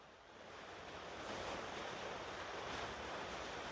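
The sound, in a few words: rainstorm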